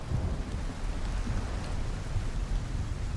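Heavy rain pours steadily in the climbing video game Cairn, a dense, unbroken wash of noise with a deep rumbling low end like a storm, loud and constant with no voices.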